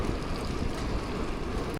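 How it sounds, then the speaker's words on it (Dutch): Steady rain falling outdoors along a lakeside hiking trail, a dense unbroken hiss of drops with a faint wind rumble underneath, close and even throughout, no voices. "ik heb het idee dat het al wat minder wordt, de regen"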